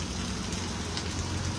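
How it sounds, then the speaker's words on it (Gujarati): Heavy night rain falls steadily over Vadodara, a dense, continuous hiss with soft splashing on surfaces, even in level and unbroken throughout, with no voices. "ઠંડીમાં વરસાદ ફૂલ છે"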